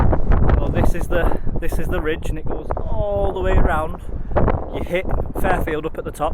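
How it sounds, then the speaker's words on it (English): Strong wind roars across an exposed mountain ridge on the Fairfield Horseshoe, buffeting the microphone with heavy low rumble while someone talks over it throughout. "I apologise about the wind, I know it's really windy"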